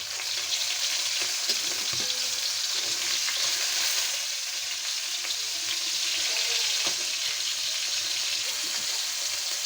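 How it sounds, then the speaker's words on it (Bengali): Hilsa fish lightly frying in a wok gives a steady, close sizzle of hot oil that runs unbroken throughout, with a few faint clinks and stirring scrapes and no voices. "মাছগুলো আমার ভাজা হয়ে গেছে"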